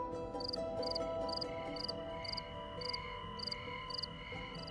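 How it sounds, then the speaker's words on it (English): Crickets chirp at night in a backyard under a starry sky, short high pulsed bursts repeating at a steady, even rhythm over a faint constant background hum. "a recording engineer on a starry night recorded crickets in his backyard"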